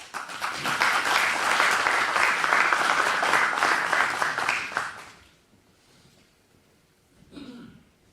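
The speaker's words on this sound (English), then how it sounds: "Please give a warm round of applause for Jelle Römer" An audience at an award lecture applauds loudly and warmly for about five seconds before the clapping dies away into quiet, followed by a single cough or throat clearing.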